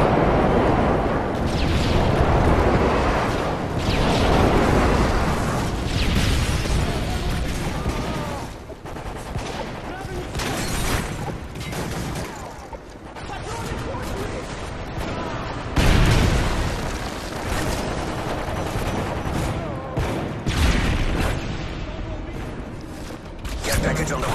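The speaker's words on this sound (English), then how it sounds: "Friendly airstrike on the way." Airstrike explosions in Call of Duty MW3, a long, dense wash of booming blasts and rumbling gunfire that swells and fades in waves, loud and chaotic, with game voice announcements over the top.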